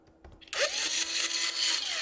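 Power drill driving a long tiny screw into an HP EliteBook 840 laptop during a charge port repair, a steady close whirring burst that starts abruptly and runs on alone after a quiet lead-in.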